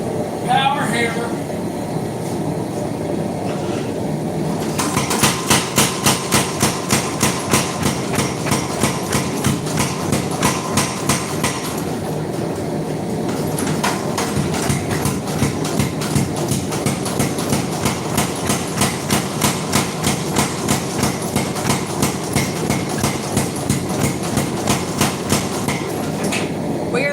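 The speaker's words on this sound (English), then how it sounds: "Power hammer." A power hammer forges a railroad spike into a tomahawk with a fast, loud, relentless run of rhythmic strikes that starts after a few seconds, pauses briefly and then resumes.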